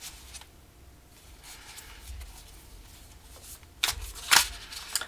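A deck of tarot cards being shuffled and pulled gives soft, close riffling and sliding card sounds, ending with a couple of sharp, louder snaps and flicks.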